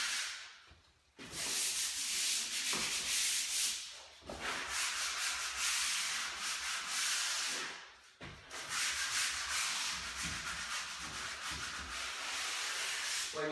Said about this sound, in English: Of course, rub down your filler.